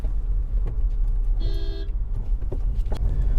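Dense road traffic on the Mumbai-Pune highway in India: a steady rumble of car and bus engines, with a short car-horn toot in the middle and passing vehicles swelling close by.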